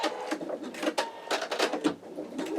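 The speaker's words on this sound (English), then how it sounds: "Reattach to the machine. Hold my thread tail again and start stitching." An embroidery machine stitching an in-the-hood wallet runs in a steady, rapid mechanical chatter with repeated clacks, close and moderately loud, and no voices.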